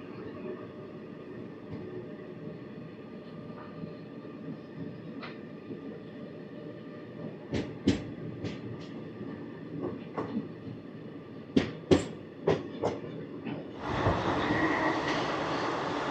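Ratnachal Express, train 12718 with ICF coaches, running at about 105 km/h past skipped stations near Gannavaram: a steady interior rumble, then a burst of sharp rhythmic clicks over rail joints, ending in a louder broadband rush.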